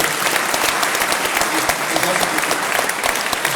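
An audience at a French political party gathering breaks into applause, a loud, continuous wash of many hands clapping at close range, with a faint murmur of voices underneath.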